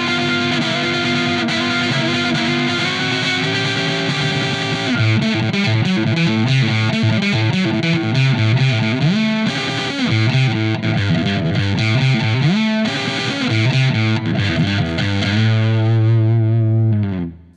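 Electric guitar through a Brazilian-made fuzz pedal with compression turned all the way up, pushing the tube distortion into aggressive overdrive; a loud, continuous riff of sustained, saturated notes and chords that cuts off abruptly at the end.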